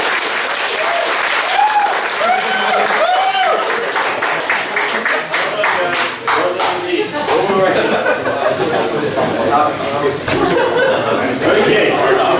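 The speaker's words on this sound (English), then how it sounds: "a round of applause if you thought Joe won the case" A comedy improv audience at Joke at the Oak gives a long, loud round of applause, a full room of clapping with chuckles and voices mixed in, sustained for over ten seconds.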